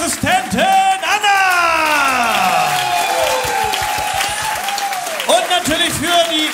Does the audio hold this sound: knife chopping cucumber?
no